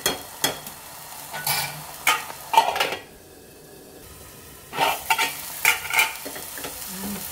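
Tomatoes cooking in a pan for a brinjal tomato curry, with a series of close scraping stirs and utensil knocks over a soft steady sizzle, a short quieter pause midway, then more stirring.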